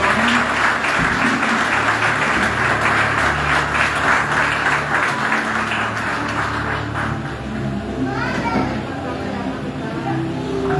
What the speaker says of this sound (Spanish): ¿Cuánto le dan un fuerte aplauso a Dios en esta mañana?